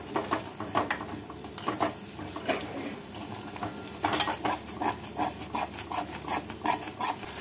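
A spoon scrapes and clinks steadily against a pan while spice paste is mixed into beaten sour yogurt with turmeric and sugar, a busy, close stirring patter with no voices.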